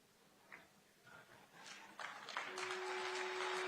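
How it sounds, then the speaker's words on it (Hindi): Crowd applause at the foundation-stone ceremony for the HCL-Foxconn semiconductor plant in Greater Noida, starting with scattered claps and swelling into steady, distant applause over a sustained tone. "तालियों की गड़गड़ाहट रुकनी नहीं चाहिए"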